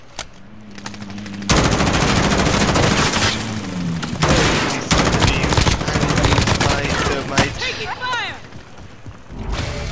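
Dense, loud automatic gunfire rattles almost continuously in a Call of Duty: Modern Warfare match, long machine-gun bursts and sharp shots layered with mechanical clatter, briefly broken by short gaps, while a voice talks over parts of it.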